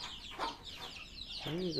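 A rooster and hens move about, giving a few quiet clucks and short calls at moderate distance over faint background noise.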